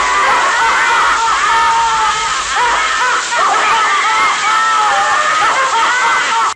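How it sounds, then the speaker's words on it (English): A collection of handcrafted sailor figures shrieks with laughter all at once, a dense, continuous chorus of high warbling cries that fills the space loudly and steadily from start to finish. "a collection of sailors that, when activated together, fills the house with a shrieking laughter"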